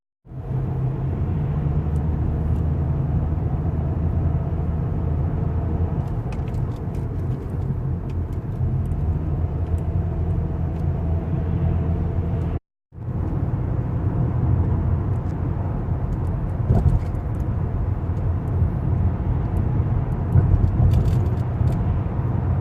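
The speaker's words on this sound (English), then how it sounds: "I am driving to work" A car driving to work on a road in the dark, a steady loud engine and tyre rumble filling the cabin, with a brief cutout midway before the drone resumes, no speech.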